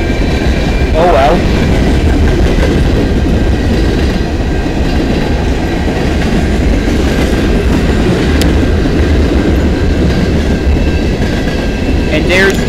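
A CN freight train rolls steadily past close by on the Dundas Subdivision in London, Ontario, loud continuous rumble with clattering wheels and a brief metallic squeal.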